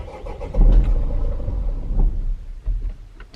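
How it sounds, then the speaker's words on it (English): Renault 1.9 dCi diesel engine cranks over and catches after fresh valve clearance setting and an oil change, a loud broadband burst settling into a rough, uneven idle with surges, close by and with no talk. "So now crank it over and fire it up."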